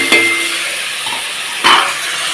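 Drumstick chorchori with eggplant being stirred in a frying pan, a continuous sizzle with two louder scraping stir strokes a moment apart, close by.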